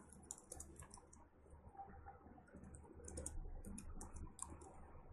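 Computer keyboard keys clatter in short bursts of quick clicks while values are typed into a Dev C++ program, close and fairly quiet over a low background hum.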